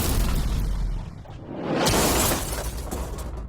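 A loud blast as a Lamborghini is fed into a huge industrial shredder, a sharp shattering crack with a deep boom and rushing debris that swells and lingers close by.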